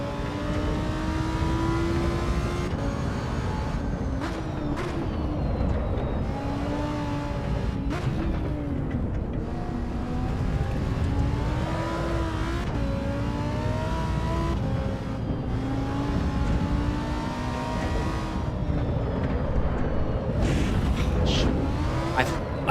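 A race car engine in Assetto Corsa EVO revs and accelerates through the gears, its pitch climbing and dropping repeatedly over a constant road and tire rumble, sustained and fairly close.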